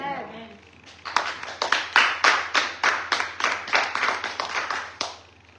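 Church congregation clapping together in a steady, even rhythm, loud and close, starting after a short pause and stopping abruptly near the end.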